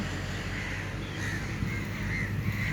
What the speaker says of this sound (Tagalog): Ay, nagliparan na yung mga ibon.